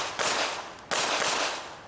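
Two sharp handgun shots at IDPA targets, roughly two-thirds of a second apart, each a loud crack followed by a ringing outdoor range echo that decays under the next.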